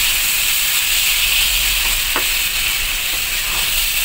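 Chicken wings fry in a hot pan with a loud, steady sizzle and hiss, while a few faint scrapes come from stirring.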